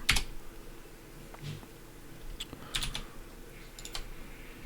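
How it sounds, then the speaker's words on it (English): Keys clatter on a computer keyboard as a command is typed into a terminal, a quick run of light clicks and taps, close and fairly soft, with no one speaking. "go to the terminal and type in npm start"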